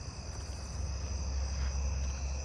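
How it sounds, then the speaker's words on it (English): Allard's ground cricket and southeastern field cricket trilling together in a neighbourhood at night, a dense, unbroken insect chorus at moderate level with no talking. "I'm hearing an Allard's ground cricket and a southeastern field cricket too."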